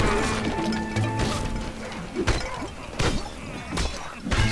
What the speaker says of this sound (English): Smashing all the statues.